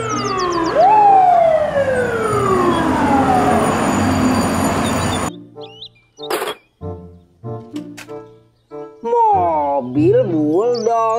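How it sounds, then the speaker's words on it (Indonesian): A wailing toy fire truck siren sweeps up and down loudly, then stops; clunks and a voice follow before another warbling siren tone. "Mobil truk pemadam kebakaran."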